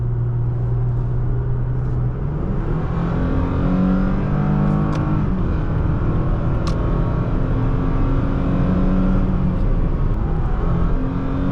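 A 2023 Toyota Tacoma TRD Off Road pickup accelerating hard from inside the cab, its engine note climbing steadily through the gears with a continuous loud rumble and road noise.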